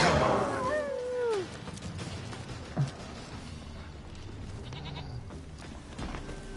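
A goat bleats loudly in The Witcher 3, a wavering cry in the first second and a half, then quieter game ambience with a faint thud and soft rustles.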